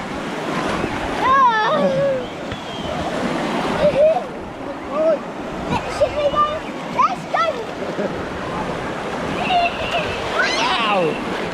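Sea waves and surf wash steadily at Dawlish Warren beach in Devon, a continuous broad rushing roar with wind buffeting the microphone, while people talk and shout over it.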